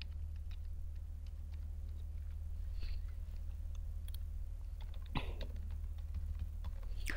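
A username is typed on a computer keyboard as soft, close key clicks in uneven runs over a steady low hum, with one sharper clack partway through.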